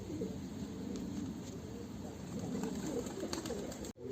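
Pigeons coo softly at a steady pace, sitting back at middle distance among the murmur of a rooftop coop with a flock of young birds, and a brief dropout comes near the end.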